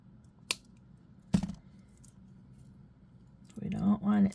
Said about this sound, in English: Let me cut this off.